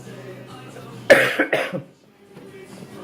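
A single sharp cough bursts out close by, followed by a couple of rougher throat-clearing hacks, then quiet.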